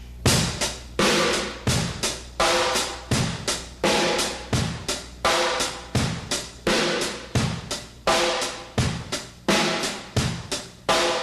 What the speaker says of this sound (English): I'll make it sound a little more funky by hitting 2 different tones